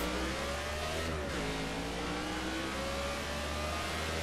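Race car engine in the NASCAR 15 video game on a speedway, a steady loud drone holding near-constant revs with a brief dip around the one-second mark, continuous throughout with no talking.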